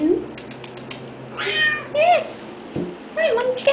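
A cat meows several times in short, rising and falling calls, with a person talking softly in between and light clicking in the background.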